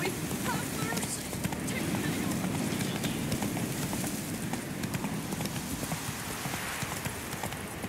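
Galloping horse hooves from the Witcher 3 video game beat in a steady, continuous clip-clop under game ambience and background effects, with a voice speaking over them.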